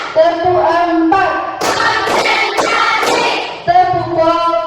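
A class of pupils performs a concentration clap pattern, with sharp rhythmic claps and thumps in the middle stretch bracketed by loud chanting children's voices.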